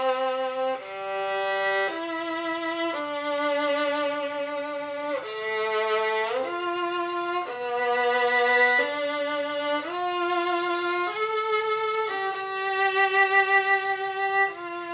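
A solo violin plays the opening four measures of a Mazas étude, a steady run of clear sustained bowed notes moving stepwise with slight shifts between them, close and alone with no talking.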